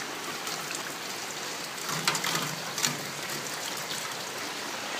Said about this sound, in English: But it is pouring.